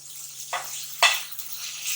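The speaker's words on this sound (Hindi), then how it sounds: "तो यहाँ मैं थोड़ा सा लहसुन अदरक को भून के इसका कच्चापन निकाल दूं" Garlic and ginger frying and being stirred in a pan for a chicken roll, with two distinct scraping stir strokes over a faint, steady sizzle, close and fairly quiet.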